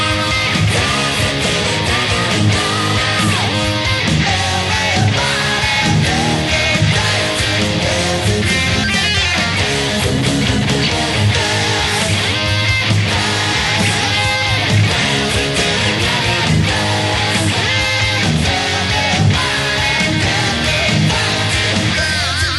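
Rhythm guitar plays the chorus, dense and loud with steady driving chords over a full band-like backing throughout, no talking.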